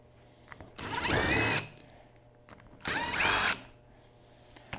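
A power drill or driver backs out quarter-inch bolts from the headlight motor assembly of a C4 Corvette. There are two separate bursts of close, whirring high-pitched spinning, each under a second long, with quiet between them and no speech.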